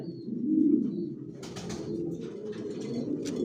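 Homing racing pigeons coo in low, throaty rolling calls, close by, with a few faint chirps and rustles in the background.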